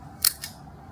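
A Konica II B rangefinder film camera fires its shutter with a crisp, close mechanical click and then a softer second snap a moment later. The sound is brief and isolated over quiet room tone.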